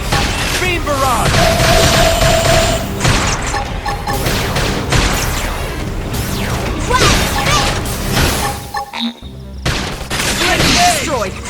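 Dense gunfire and beam barrage blasts in Xenoblade Chronicles X Definitive Edition, a loud, continuous barrage with crashes and whooshes, a brief drop near the end, then more shooting.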